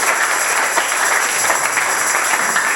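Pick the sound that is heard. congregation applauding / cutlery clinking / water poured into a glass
congregation applauding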